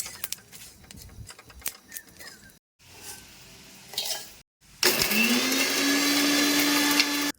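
Roasted spices are ground in an electric kitchen grinder for mutton kosha. A few seconds of clattering kitchen handling come first, then a loud, steady motor whir runs without a break to the end.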